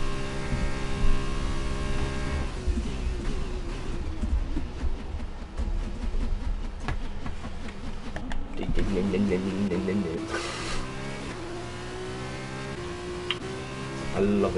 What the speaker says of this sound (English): I love the sound those cars make.